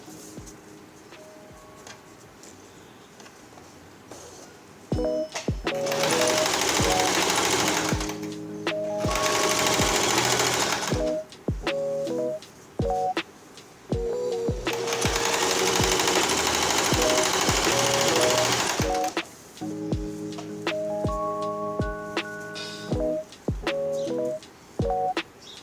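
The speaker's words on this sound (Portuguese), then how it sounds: "vou passar a costura de um lado, que já vai aproveitar e fechar essa abertura que eu deixei" A sewing machine stitches the seam of a table runner in several loud, rapid bursts of rattling stitches, separated by short pauses filled with clicks and handling noises.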